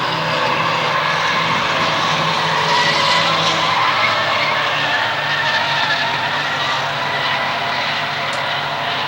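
Four-cylinder enduro race cars rumble around the Waterford Speedbowl oval in a dense, continuous engine roar from a pack running close together, loud and sustained throughout.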